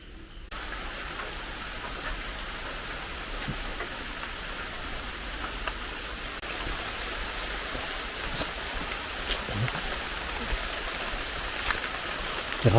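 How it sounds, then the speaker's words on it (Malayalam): Light drizzle falls steadily on an outdoor surface, a soft continuous hiss of fine raindrops with no one speaking. "ചെറിയതായിട്ട് പൊടിയുന്ന ശബ്ദം കേൾക്കാം"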